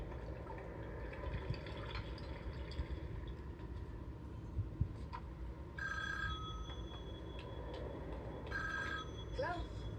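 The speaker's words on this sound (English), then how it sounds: "He's gonna phone Wendy up in a few minutes to tell her." A telephone rings in two separate bursts of bright repeated trilling, fairly faint over a muffled background hum in a hotel setting.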